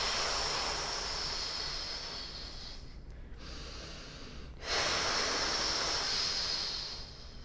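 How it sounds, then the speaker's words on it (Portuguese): Rhythmic breathing during a first-trimester pregnancy Pilates exercise: long, close, airy breaths rush in and out, broken by a short quiet pause before the next strong breath. "eu posso usar a respiração com ritmo"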